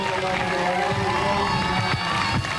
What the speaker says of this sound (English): the people of Naples and Florida applauding his efforts